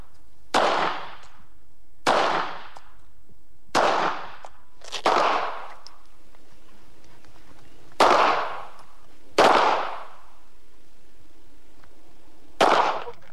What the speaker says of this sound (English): subdued submachine gun. How many rounds a minute does this fire?